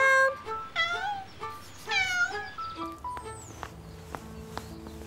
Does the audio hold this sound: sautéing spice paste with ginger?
no